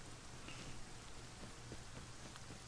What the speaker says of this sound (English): But this rain is brutal.